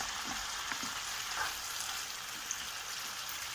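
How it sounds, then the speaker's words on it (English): Onions hitting a hot pan for Italian stewed chicken with bacon sizzle and crackle in a steady, dense hiss that fills the whole moment without any voices. "Now we have to add our onions, nostra cipolla"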